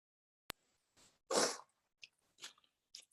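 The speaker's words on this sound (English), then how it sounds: "I'm going to blow my nose really quick." A person blows their nose during a Zoom session: a sharp click, then one strong, noisy nasal blast followed by a few shorter snuffling bursts, close and isolated against near silence.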